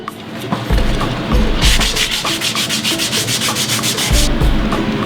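Steady rhythmic rasping of a sanding block with hoof oil rubbed back and forth on a horse's hoof during farrier clinching work, close and fairly loud, with a few light knocks at the start.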